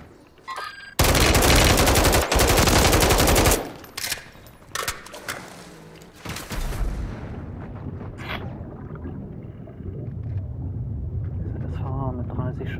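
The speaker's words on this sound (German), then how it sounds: "Das war mit 30 Schuss, ey." A long loud burst of automatic gunfire, about 30 rounds in the video game Call of Duty Warzone, rattles continuously for several seconds and is followed by scattered shots and game noise, with voices talking afterward.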